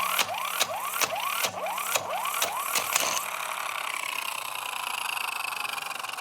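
An electric impact wrench hammers a car wheel lug nut loose in a rapid series of about seven sharp, close bursts with a whirring rise, then cuts off and leaves a quiet hiss.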